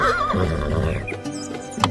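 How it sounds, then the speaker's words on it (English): A horse gives a loud, wavering whinny up close, trailing off into a few hollow hoof clops. "He brought the horse to Musa's house"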